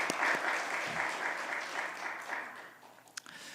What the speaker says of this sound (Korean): 찬송 부른 우리 주희 양, 수연 양 박수 한번 해줄까요?